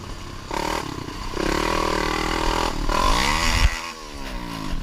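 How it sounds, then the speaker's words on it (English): An ATV ridden along a forest trail, its engine droning steadily and revving up near the end, with clattering and scraping from the rough ground mixed in. "uploaded a GoPro video of himself riding his ATV on an unnamed trail"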